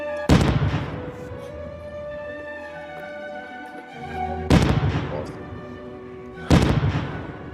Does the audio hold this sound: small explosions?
yes